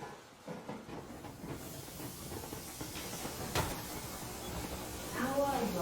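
Steam train pulling away at full steam in the video game Metro, a continuous hiss and rumbling rail noise with a sharp burst near the middle, running under voices in conversation.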